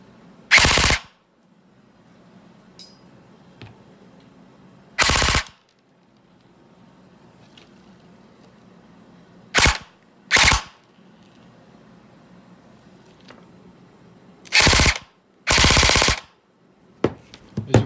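A V2 airsoft gearbox fires in short, loud bursts on a test bench, six separate full-auto volleys spaced by quiet gaps, each a dense rapid rattle of the motor and gears.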